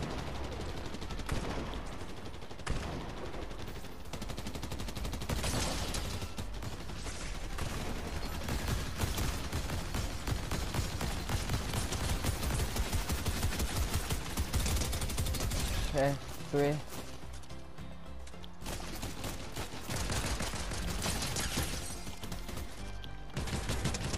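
Fortnite battle royale gunfire: bursts of rapid automatic shots and single cracks from other players fighting nearby, repeated through a noisy match with a few brief lulls and some talk over the action.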